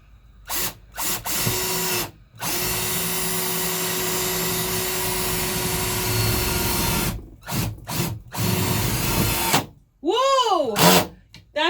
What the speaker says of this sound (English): That's like the first time I actually ever drilled a screw through this metal.